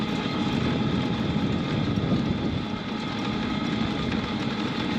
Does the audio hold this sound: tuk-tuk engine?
yes